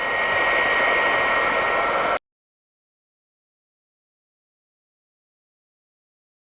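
Heat embossing tool blowing hot air over a thank-you card, a steady loud whooshing roar for about two seconds that cuts off abruptly, followed by silence.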